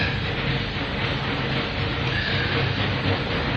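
Steady, loud rumble of a train pulling away, a broad continuous roar of wheels and engine with no voices.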